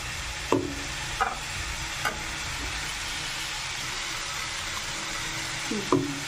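Small eggplant pieces sizzle steadily in a hot pan for Rayalaseema-style fry while a spoon scrapes and stirs them in a few distinct strokes, close and clear with no voices.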